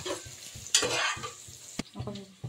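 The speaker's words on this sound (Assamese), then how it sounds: "এতিয়া পিঁয়াজখিনি ধুনীয়াকৈ ৰঙা হোৱালৈকে ভাজি থাকিম।" Onions frying in hot oil with whole cinnamon for a chicken curry, stirred in a pan: crackling sizzle with scraping stir strokes, a loud burst near the start and a few clinks of a utensil against the pan.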